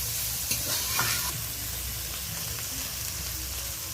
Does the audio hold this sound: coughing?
no